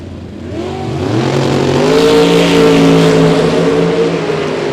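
Two drag cars, a 1971 Dodge Duster and a Chevelle, roar hard down a bracket-race strip, engines climbing steadily in pitch at full throttle, loud and sustained throughout.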